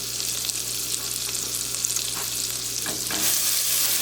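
Curry paste frying in hot oil for a Guyanese chicken curry, a steady close hiss and crackle of sizzling with a few soft stirring scrapes, loud and continuous, no talk.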